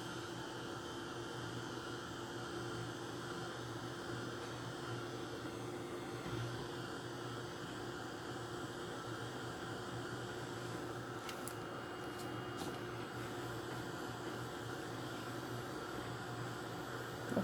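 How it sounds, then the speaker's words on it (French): A very quiet heat gun blows steadily on a hanging Christmas decoration, giving a faint, even hum and hiss that stays constant throughout. "vous pouvez faire directement sécher un petit peu au heat gun"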